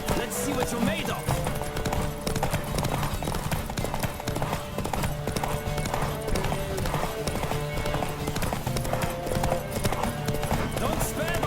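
Horse hooves clip-clop in steady galloping rhythm through a fast ride in The Witcher 3: Wild Hunt on PlayStation 5, loud and continuous with game music and voices talking over it.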